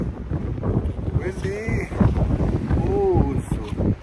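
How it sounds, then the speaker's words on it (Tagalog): Wind gusts buffet the microphone on a windy day outdoors, a rough low rumble that continues throughout under a person talking close by. "It's windy."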